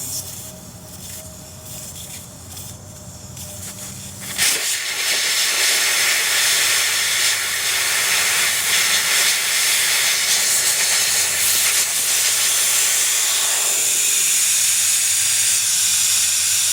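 Air blasts out of a tire as the valve core is removed, a sudden loud steady hiss that starts a few seconds in after quieter handling noises and continues strongly, easing slightly near the end.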